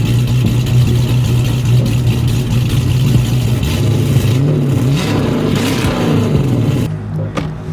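Dodge Challenger R/T V8 with a cam, a 6.4 block, 5.7 heads and a 454 MMX stroker kit, revving loud and close with a rough lumpy idle and rising pitch sweeps before easing off.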